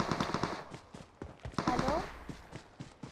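Rapid gunfire from a shooting video game crackles in short bursts beneath steady, overlapping player chatter.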